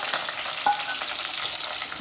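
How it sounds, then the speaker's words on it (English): Onions and curry leaves fry with mustard and fenugreek seeds in a pan, a loud, close, continuous sizzle broken by light stirring scrapes. "Let's mix it, fry it for a couple of minutes"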